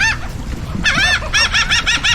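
Chickens cluck and squawk near a spot where black drum and red drum are being filleted, a loud close run of repeated harsh calls that quickens into a rhythmic burst toward the end, with no talk over it.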